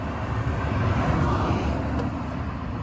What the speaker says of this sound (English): Right up here by the highway, so you'll hear some cars.